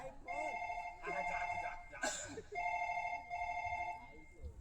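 A mobile phone rings on an incoming call, a repeating electronic ring tone in three bursts with pauses, fairly close, while people talk and a brief shout breaks in mid-way.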